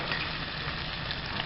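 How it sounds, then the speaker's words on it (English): Chopped peppers sizzling in a hot pan for a Creole crawfish étouffée, a steady close frying crackle that fills the moment without pause. "Peppers in the pan, nice and sizzling."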